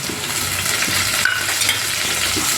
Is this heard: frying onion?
yes